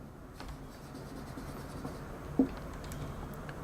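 A math problem with complex numbers being written out by hand, a soft continuous pen-on-paper scratching close by, with one slightly louder tap partway through.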